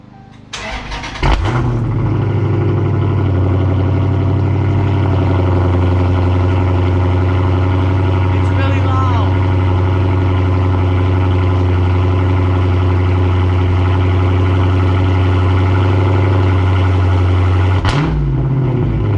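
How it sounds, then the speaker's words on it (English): A 2015 Dodge Challenger Scat Pack with a mid-muffler delete cold-starts with a sharp crank and loud bark, then settles into a deep, steady, rumbling high idle that runs close and unbroken before a final blip. "here is a cold start up on the 2015 Challenger Scat Pack with mid-muffler delete"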